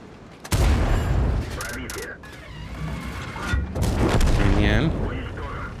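Tank cannon shots and impacts in the World of Tanks video game, with an Object 752 autoloader, a sudden loud boom followed by further blasts, clatter and mechanical sounds under game voices.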